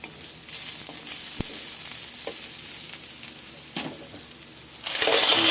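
Garlic, onion and ginger sautéing in a pan, a continuous frying hiss with scattered taps of a spoon, swelling into a louder sizzle near the end.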